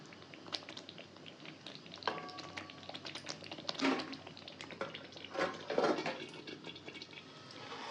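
A pot of country-chicken egg curry (pulusu) simmers with a soft, steady bubbling and occasional gentle pops, fairly quiet and uninterrupted throughout.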